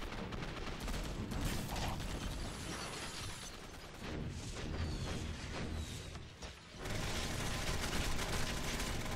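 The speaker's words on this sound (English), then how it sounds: "it's the rapid fire missiles versus the big rocket" Dense, continuous barrage of rapid-fire missile launches in a video game: explosive bursts and mechanical clatter, loud and sustained throughout with a brief dip near the middle.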